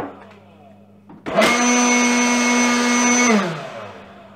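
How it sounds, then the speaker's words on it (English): Ryobi One+ 18V cordless 200 CFM leaf blower fitted with a P108 battery spins up sharply into a loud, steady high-pitched whine, holds for about two seconds, then winds down, heard close up. "You can hear the motor running harder when you've got the P108 battery in it."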